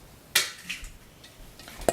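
A child cracks an egg on a bowl edge while cooking, two or three sharp close taps with quiet gaps between them.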